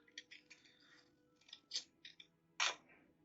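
Scissors trim leftover white edges off a terrain tile for a Star Wars spaceport build, giving a string of short, crisp snips close by with brief pauses between them and no talking.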